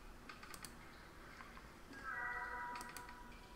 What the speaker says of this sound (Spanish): hay un maullido